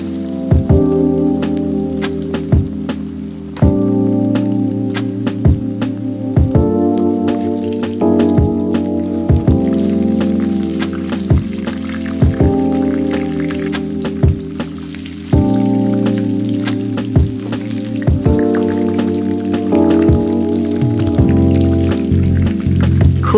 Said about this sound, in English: fry each side of the pork for 2 to 3 minutes or until golden brown